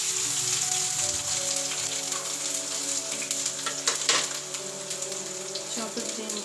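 Curry leaves and chopped garlic sizzle in hot oil, giving a continuous close crackling hiss with a few sharper pops as the seasoning fries.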